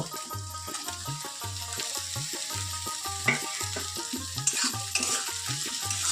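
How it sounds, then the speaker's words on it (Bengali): Capsicum frying with browned onions in a pan, a loud continuous sizzle with rhythmic stirring and scraping strokes at an even pace, close and alone. "এবারে ক্যাপসিকামটা দেব ক্যাপসিকামটা একটু ভেজে নেব"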